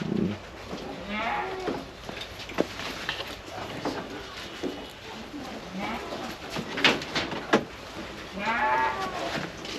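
Goats on a commercial goat farm bleat repeatedly at close range, their wavering calls spread across the clip over a steady background of farmyard noise.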